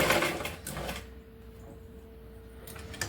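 Sewing machine stitching a blouse sleeve, a short mechanical burst with a steady hum that carries on at lower level, close and alone with no talk.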